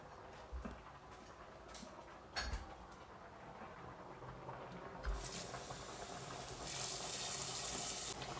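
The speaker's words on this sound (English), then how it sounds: "take the pot at the bottom and we're going to fill it with water" Tap water runs into a cooking pot in a home kitchen, a soft, steady hiss and splash that grows a little fuller partway through, with a few faint knocks.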